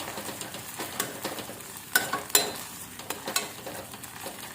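Onion and capsicum get stirred with tomato ketchup in a hot pan for restaurant-style cabbage veg Manchurian, with soft sizzling under repeated scraping strokes of a spoon, fairly quiet and close.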